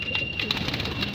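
Pet pigeons cooing softly after their bath, a few gentle, close coos and warbling calls at a low, even volume.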